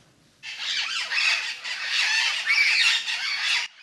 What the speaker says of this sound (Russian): Эти разноцветные попугаи в дикой природе Пуэрто-Рико теперь редкое зрелище.